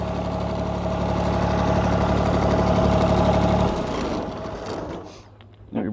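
Steady, close diesel chug from an idling John Deere 855 compact tractor, loud for several seconds before the engine note drops and fades toward near silence, with a brief knock at the end.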